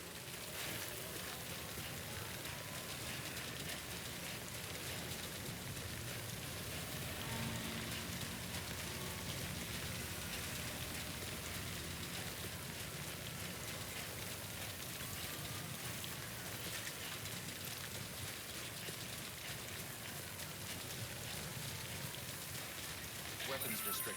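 Timefall rain in the video game Death Stranding makes a steady, dense hiss of rainfall that stays constant and moderately loud throughout.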